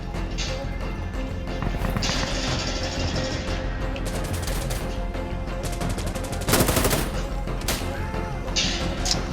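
Loud, close gunfire in the shooter game Insurgency: Sandstorm, where a shotgun is in play: dense bursts and rapid shots crackle over a continuous rumble of battle noise, including one sharp burst of fire partway through.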